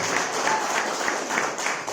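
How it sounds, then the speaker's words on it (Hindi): A church congregation at a Hindi sermon claps loudly in a steady rhythm, many hands beating together in regular pulses. "जोर से ताली बजाओ"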